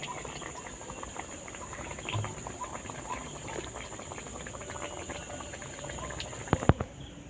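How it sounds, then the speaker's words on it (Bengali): Sweet potato malpua frying in hot oil, a soft, steady crackling sizzle at low volume, with a couple of sharper clicks near the end. "আমি একটু উল্টে পাল্টে এটাকে লাল করে ভেজে নেব।"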